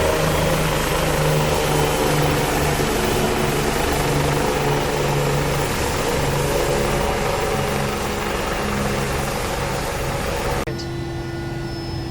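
A Bell 429 helicopter in the X-Plane 11 flight simulator drones loud and steady as it picks up speed, with continuous rotor and turbine whine that shifts tone near the end.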